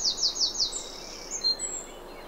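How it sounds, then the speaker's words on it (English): Outdoors, several songbirds such as blue tit, chiffchaff, wren and robin sing together: a quick burst of high descending trilled notes at the start, followed by fainter thin whistles and chirps at moderate distance. "there's about 5 or 6 different birds all singing all at once"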